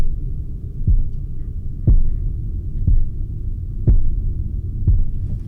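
An Omnisphere synth patch, Dystopian Rains, played with the arpeggiator on, gives a deep droning hum with a low pulse about once a second, loud and steady throughout, with no voices.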